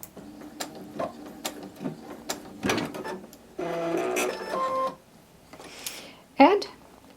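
A sewing machine stitches binding onto a quilt top, a whirring mechanical run of about a second among clicks, ratcheting and fabric handling, with a voice talking throughout.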